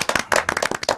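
Studio audience clapping on a Korean radio show, a short burst of quick, uneven handclaps close to the microphone, lasting about a second.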